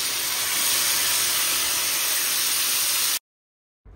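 Marinated chicken sizzles in hot oil in a kadai with whole spices for chicken korma, a loud, steady, close hiss that cuts off abruptly after about three seconds.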